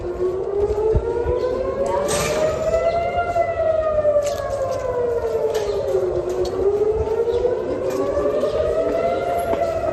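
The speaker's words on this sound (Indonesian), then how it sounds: "Orang-orang berlarian di pusat kota Tel Aviv saat sirine berbunyi." Air raid siren wailing in central Tel Aviv during a missile alert, a loud continuous tone rising and falling in slow sweeps over steady city background noise.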